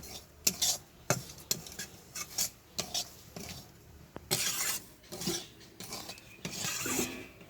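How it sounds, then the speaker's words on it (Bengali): Semolina toasting in a little oil in a pan, stirred with a utensil: repeated scraping and clinking strokes against the metal, with a soft fry hiss in the later stretch, close and moderately quiet, no voices. "একটু হালকা তেলে ভেজে নিচ্ছি।"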